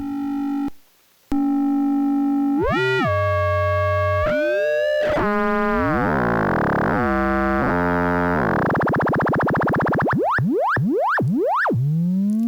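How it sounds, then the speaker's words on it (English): Serge modular synthesizer tones, one fast oscillator frequency-modulating another, shift through sweeps, warbles and buzzy modulated textures, ending in repeated rising zaps; loud and continuous with no voices. "that's oscillating very fast is modulating the frequency of another oscillator"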